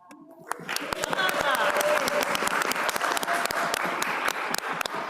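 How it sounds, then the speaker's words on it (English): Audience at a school board meeting applauds and cheers for a teacher honored for ten years of service, dense continuous clapping with whoops rising after a brief quiet start and holding loud throughout. "You win for the biggest cheering section."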